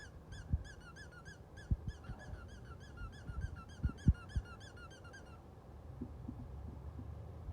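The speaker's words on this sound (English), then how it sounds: "you need a different squeaker." Dog toy squeaker squeezed for a bearded collie, a run of rapid high squeaks over soft thumps and handling noise that stops partway, then quiet room tone.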